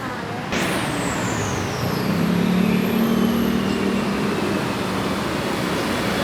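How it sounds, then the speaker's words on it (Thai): Traffic on a Bangkok street around Victory Monument with city buses passing: a steady loud roar of engines and road noise, a whoosh as a vehicle goes by, and a low idling rumble building up. "อาจจะมีเสียงรถรบกวนหน่อยนะคะ"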